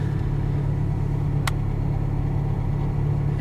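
A Ferrari engine idles steadily after a quick restart, following a suspected clutch position sensor fault, a constant low drone with one brief sharp click partway through.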